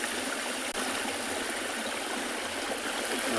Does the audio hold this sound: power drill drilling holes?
no